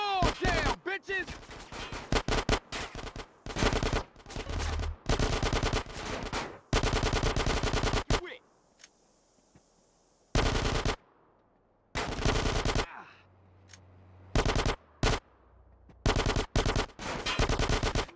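Rapid automatic gunfire in GTA comes in dense, loud bursts separated by short gaps and quieter stretches, with a few isolated single shots near the end.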